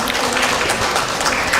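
Audience at a nursing faculty national conference applauds the session chair, a dense, loud, continuous burst of many hands clapping together for under two seconds.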